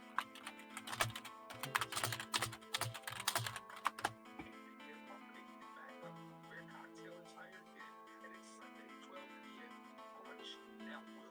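Rapid bursts of typing on a computer keyboard, clicking keys clustered during the first four seconds, then fading to sparse taps beneath a sustained music-like tonal background.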